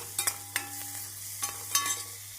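Grated carrot and onions sautéing in a pan, with a faint low sizzle under several sharp stirring scrapes of a spoon against the pan.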